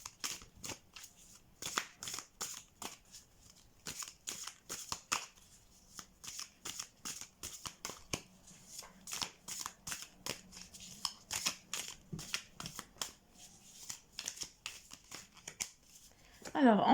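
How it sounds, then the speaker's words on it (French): Tarot cards are shuffled by hand, close and crisp, in a long run of rapid riffles and rustles with brief pauses between them, ending in a louder sweep. "je vais mélanger les cartes"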